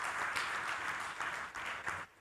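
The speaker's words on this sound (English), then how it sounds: "I want all of you to give a big applause for the scientists who have done that" Audience applause for scientists at the ACAE Annual Conference 2023 comes through as a steady, fairly faint wash of clapping from a crowd, lasting a couple of seconds.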